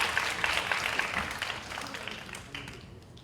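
An audience at a business model research presentation contest claps in a steady round of applause that gradually thins out and fades.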